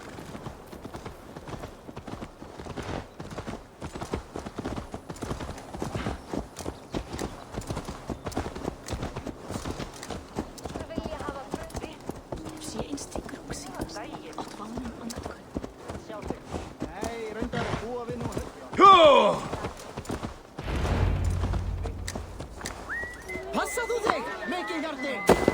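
Horse hooves clip-clop steadily in Assassin's Creed Valhalla, a rapid rhythmic patter running under spoken character dialogue and game music, with a heavier thud and rumble near the end.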